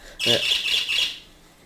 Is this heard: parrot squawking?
yes